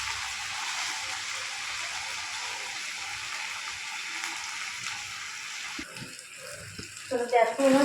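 Water pours into a cooking pot of chicken and spice paste frying in oil, a steady gushing that lasts several seconds before giving way to clinks and someone speaking.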